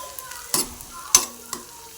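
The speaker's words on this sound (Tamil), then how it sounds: "நம்ம கட் பண்ணி வச்சுருக்க வெங்காயம் பச்சை மிளகாலாம் சேர்த்து கொஞ்சம் நல்லா வதக்கிக்கோங்க" Chopped onions and green chillies sauté in oil in a pan for coconut milk egg gravy. A soft sizzle is broken by three quick scraping stirs, close and moderately loud.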